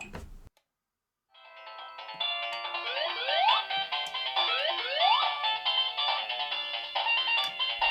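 Bright electronic Sonic 2 Sega Genesis music plays on an emulating retro handheld, with chiptune melodies and quick rising sweep effects, steady and fairly loud after a brief silence.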